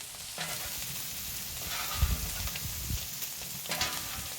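Shrimp and fresh butter sizzling on a Kamado Joe griddle, a close continuous hiss with a few scraping, clattering moments from a spatula and no talking.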